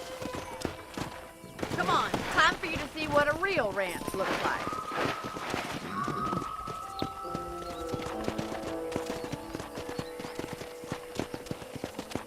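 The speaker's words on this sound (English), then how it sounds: "let's see if you can still ride a horse" A horse's hooves clip-clop steadily on the ground during riding in the Western video game Red Dead Redemption, close and rhythmic, with a brief whinny, under a man's spoken line and game music.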